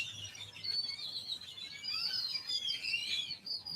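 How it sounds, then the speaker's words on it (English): Birds chirp and tweet in a thin, high, continuous twittering, fairly faint and distant, over a soft outdoor background hiss. "There's birds."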